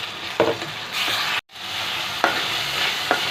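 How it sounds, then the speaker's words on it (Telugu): Ginger-garlic paste and onion paste fry in a pan for chicken curry, a loud close sizzle broken by scraping stirs, with a sudden brief cut of silence midway. "2 స్పూన్స్ ఆనియన్ పేస్ట్ వేసుకొని బాగా ఫ్రై చేసుకోవాలి"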